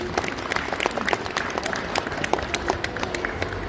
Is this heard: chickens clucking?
no